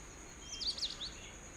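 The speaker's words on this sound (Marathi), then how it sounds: "फक्त पक्ष्यांशी आवाज" Morning birds on a farmhouse outing chirp in a short burst of a few high, quick tweets near the middle, set against a quiet, faint background.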